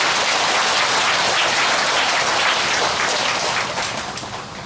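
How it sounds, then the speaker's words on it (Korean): Sustained audience applause at a Buddhist temple dharma service at Gilsangsa, a dense steady clapping that holds strongly before tapering off near the end, with no voices over it. "감사의 큰 박수 부탁드립니다."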